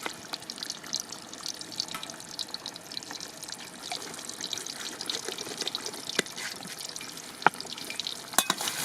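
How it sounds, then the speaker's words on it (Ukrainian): Sausages sizzle in a pan outdoors with a steady crackling hiss, punctuated by occasional sharp pops and stirring clicks, close and moderately loud, with no talk. "Поки сердельки обсмажуються"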